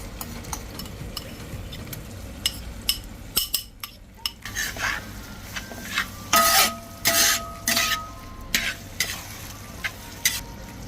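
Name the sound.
sautéing ginger garlic paste in pan for biryani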